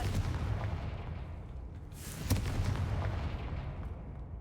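A Confringo spell explosion in the wizard video game Hogwarts Legacy, with a sudden loud blast over a dense, rumbling, booming background.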